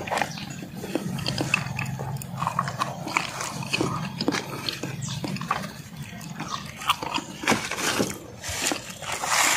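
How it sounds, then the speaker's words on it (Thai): Someone bites and chews the peel of a fresh santol fruit picked in an organic orchard, making close, wet crunching and munching sounds in irregular bursts, with a faint voice now and then. "ลองชิมเปลือกเขานะ"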